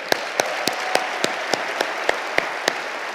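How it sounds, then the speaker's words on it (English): A crowd applauds Billy Still and friends at the 36th annual MLK holiday breakfast, a dense, sustained wash of clapping filling the room, with a few sharper claps standing out at a regular pace. "please join me in another round of applause for Billy Still and friends."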